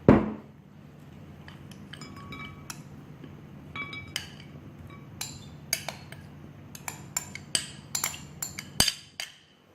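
Spoon and dish clinking while red kidney bean and peanut chaat is served, a loud clunk at first, then a quiet stretch followed by a string of bright metallic clinks and taps that grow more frequent, no voices.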